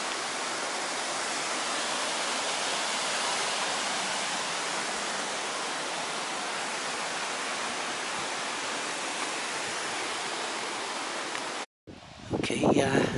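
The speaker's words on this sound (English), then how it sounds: "There's the nice little waterfall there" Steady rushing of a small waterfall at Upper Cwm Bychan fills the scene for a long stretch, even and continuous, before cutting off abruptly near the end.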